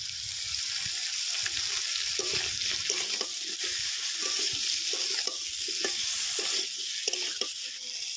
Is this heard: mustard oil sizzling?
yes